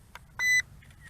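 A short electronic shutter tone from the phone app paired with a Bayangtoys X28 2.4G 1080P WiFi FPV drone, a single brief chime sounding once, fairly clear over faint background noise.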